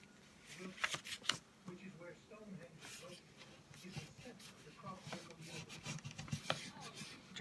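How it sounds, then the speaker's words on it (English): Paper being creased and folded into an origami box, soft close crinkles and rubbing scrapes under steady talking. "open it up and fold the top down into that center fold"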